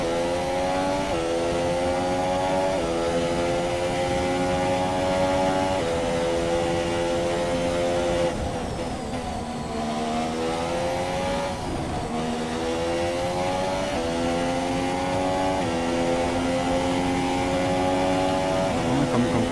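Formula 1 race car engine from a video game, Australian Grand Prix practice session, screaming loudly and steadily with rising and falling revs, gear shifts and a brief dip mid-lap, alone without talk.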